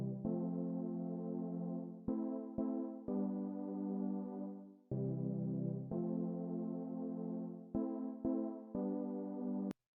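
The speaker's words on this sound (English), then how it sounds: "a triangle wave tending to a square, tending to a saw, and finally to a square" A buzzy synthesizer plays a sequence of sustained notes, its waveform morphing from triangle to square to saw, shifting from mellow to brighter and harsher timbres, with sharp breaks between phrases.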